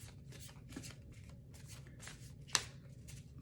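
Tarot cards shuffled by hand up close, soft riffling bursts in an uneven rhythm with one sharp snap near the end, quiet and without speech.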